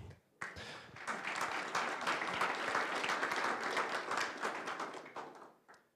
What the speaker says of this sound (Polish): Proszę jeszcze raz o wielkie brawa.